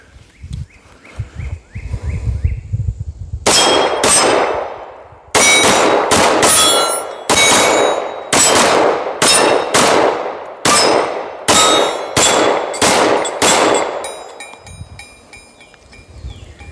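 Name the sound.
rapid shots from a Canik TP9 Elite Combat pistol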